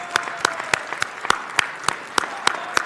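Applause breaks out at a city council meeting, heard as a steady, evenly spaced run of sharp claps that sound fairly thin, as if from a modest group, with a low room murmur underneath.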